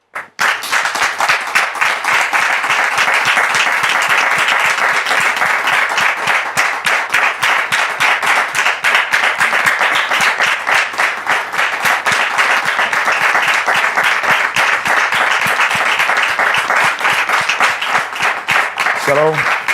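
A studio audience applauds steadily and loudly as guests arrive on a talk show set, dense clapping holding at full level for nearly twenty seconds.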